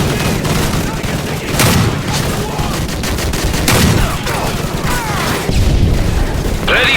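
Machine gun fire rattles through a Call of Duty Modern Warfare battle, with dense bursts of automatic shots, booming impacts and chaotic combat noise, with shouted voices mixed in.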